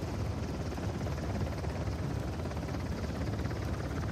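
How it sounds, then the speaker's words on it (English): A helicopter in the video game Uncharted: The Lost Legacy gives off a continuous loud rotor roar and whir that holds steady throughout, with no talk. "We have to wait for the helicopter to move"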